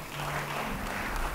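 A church congregation applauds during a sermon, a soft, diffuse wash of clapping heard at a distance over a low room hum.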